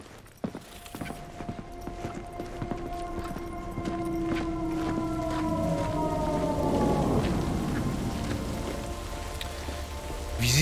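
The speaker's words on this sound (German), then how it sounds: "Und es regnet, natürlich." Steady rain falls in the video game Cyberpunk 2077, a continuous hiss of rain on surfaces that swells slightly over the clip, with tonal game music and effects layered on top.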